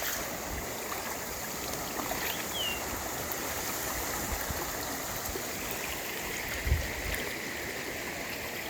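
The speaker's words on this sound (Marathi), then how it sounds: "पाणी बघा लांबवर तिकडं एक किलोमीटर इकडं एक किलोमीटर पाणीच पाणी आहे" Broad, steady rush of a flooded river spreading across fields around a village, continuous and fairly loud with no voices, a faint brief bump near the end.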